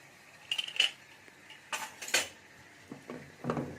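Cooked mutton being shifted from a pressure cooker into a kadai, heard as a handful of spaced metallic clinks and scrapes of a utensil against steel, close and moderately loud, with no talking.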